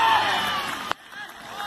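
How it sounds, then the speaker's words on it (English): Spectators at a rough non-league football match let out a brief roaring cheer that cuts off abruptly after under a second, leaving faint background murmur. "Then the crowd goes wild."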